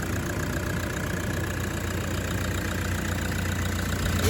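A newly replaced car engine idles with a steady, loud, unbroken rumble and hum close by, with no voices.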